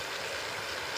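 Fresh water leaks and runs steadily from a broken pipe on a residential street, a continuous broadband rush that never lets up, close and fairly loud, with no voices over it.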